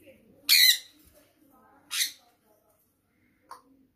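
Sun conure parrots squawking in a village home, two loud harsh broadband calls followed by a short sharp chirp, close by with quiet gaps between.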